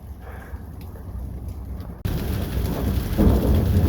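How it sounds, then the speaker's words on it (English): Rainstorm heard from inside a cave beside a mountain, with thunder from a lightning strike: steady rain hiss jumps abruptly louder halfway through into a heavy rumbling roar that stays loud. "Oh, the lightning just hit that mountain right there."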